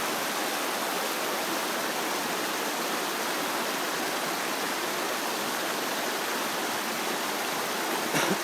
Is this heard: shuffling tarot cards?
no